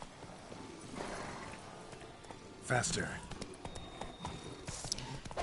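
Hooves of Roach, the horse in The Witcher 3: Blood and Wine, clip-clopping at a brisk pace through a cemetery, fairly faint beneath a man's speech.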